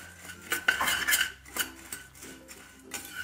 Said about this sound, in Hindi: इस तरीके से चलाते हुए इसको जो है हम अच्छे से मिक्स कर लेते हैं